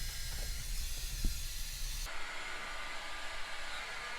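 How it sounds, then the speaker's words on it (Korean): Heat gun blowing hot air while working on a tubeless cyclocross bicycle tire, a steady close broadband hiss and roar that carries on alone without talk, its tone shifting partway through. "열풍기로 열을 가해서 1차로 식혀줘야 되거든요"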